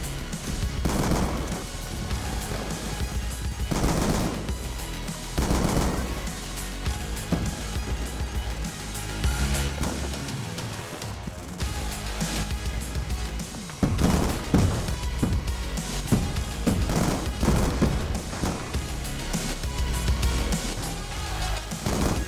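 Gunfire from an M1216 shotgun in Black Ops 2 keeps sounding through a dense, busy game mix, with repeated loud bursts and blasts over a constant bed of action sound and no clear speech.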